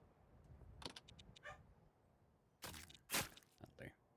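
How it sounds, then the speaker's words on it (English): A pet dachshund barks in several short, sharp bursts, a pair early on and a louder cluster near the end, with a quieter stretch between, fairly close over a faint background. "what my dog's barking about now?"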